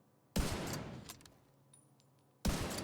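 Two loud gunshot bursts in The Division 2 at a shooting range, each an abrupt sharp blast with a trailing echo, separated by a couple of seconds.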